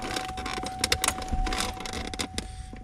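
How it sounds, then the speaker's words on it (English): A Chevrolet Colorado blower motor fan runs with a steady thin whine, mixed with close clicks, clatter and handling noises. "there's your blower motor fan"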